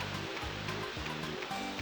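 Steady rushing waterfall in Mumbo's Mountain from Banjo-Kazooie, a continuous roar of falling water with a rhythmic pulse from background game music, close and fairly loud.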